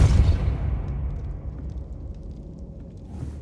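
Depulso spell cast in the video game Hogwarts Legacy, a loud low booming burst at the start that fades into a rumbling tail, with no talking.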